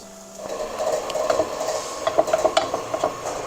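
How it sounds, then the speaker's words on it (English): Bread and milk beaten together by hand in a bowl until smooth, a run of quick, light utensil taps and scrapes close by, with short bursts of rapid clicking against the bowl. "I've added the bread and milk together, and I'm just going to beat this until smooth"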